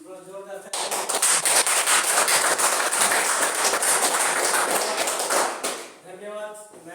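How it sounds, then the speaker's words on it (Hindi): An audience claps loudly and steadily for about five seconds at an indoor talk, the dense applause rising abruptly after a brief spoken prompt and tapering off as a voice returns at the end. "आगे बढ़े मेरा भाई, थोड़ा जोरदार ताली"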